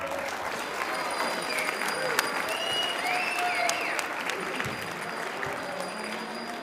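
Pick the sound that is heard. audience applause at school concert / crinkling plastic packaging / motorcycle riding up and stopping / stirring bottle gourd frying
audience applause at school concert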